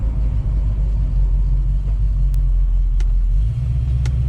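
A 1967 Mustang cruising on the road in 110-degree heat, its engine and road noise forming a strong, steady low rumble from inside the car, with a few faint clicks and no talking.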